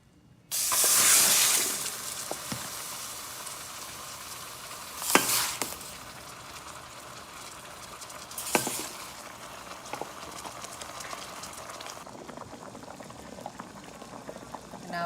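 Lemongrass duck soup with kaffir lime leaf boils in a hot pot, a soft continuous bubbling and hiss with occasional louder sizzling bursts and stirring clatter.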